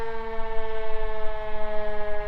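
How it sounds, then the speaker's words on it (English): A midday siren sounds from the historical Loxton Pioneer Village, a loud, steady wailing tone with rich layered harmonics that holds throughout without a break. "Let the siren calm down a bit."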